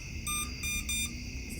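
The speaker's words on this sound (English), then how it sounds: "It's beeping at me." A HolyStone drone control app beeps quietly, giving a few short electronic tones in an even rhythm over a low background hum.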